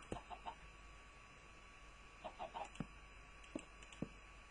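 Chickens in the Minecraft video game give short, scattered clucks, soft and clipped, arriving in small clusters over a low background hum.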